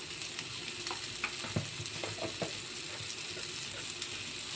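Onions with turmeric, chili powder and chicken masala fry in a pan for masala egg, giving a steady close sizzle broken by light scraping taps of stirring.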